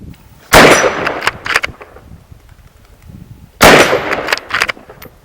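Steyr Scout Ranger .308 Win rifle firing at a range, two sharp loud reports a few seconds apart, each followed by a short ringing clang and echo.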